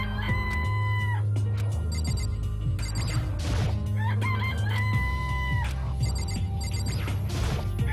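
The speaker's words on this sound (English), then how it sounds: "Hello, chickens!" Chickens in the Danganronpa video game cluck while a rooster crows, set among bright synthetic game tones and repeated chiming notes that run steadily without pause.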